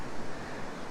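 Waves and wind at a bay boat ramp, a steady broadband wash of surf and gusting air filling the moment without pause or talk.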